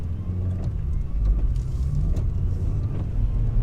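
A 2005 Vauxhall Astra G 1.6 Twin Port with low power and a lumpy-running fault pulls away in first gear. Its engine gives a steady, close, low rumble that stays even throughout, with faint knocks over the drone.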